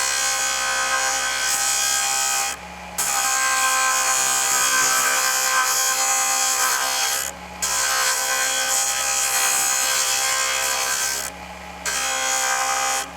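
A buffing wheel spins at high speed, polishing matte beads to a gloss, a loud continuous whirring grind broken by three short dips where the beads are lifted away and pressed back.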